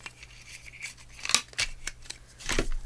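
Scissors snip through a paper handle strip for a handmade journal card, a few close, crisp cuts with short rustling between them, quiet and alone.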